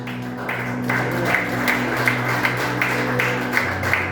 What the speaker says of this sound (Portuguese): Aplauda o Senhor bem forte.